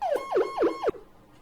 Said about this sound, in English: we do have a few sirens